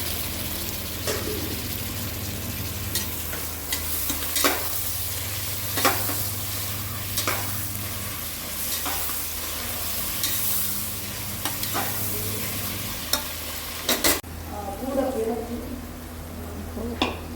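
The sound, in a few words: tomatoes and ginger garlic paste frying and stirred in pan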